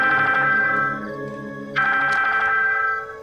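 A phone rings indoors with a bright electronic ringtone, two near, steady bursts separated by a short dip, alone without talk.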